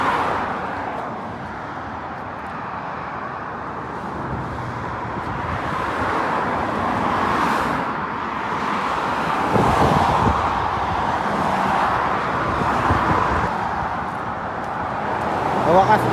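Heavy road traffic streams steadily past a roadside near the sea in Kuwait, a continuous wash of car and truck engines and tyre noise with louder passing vehicles swelling in and out.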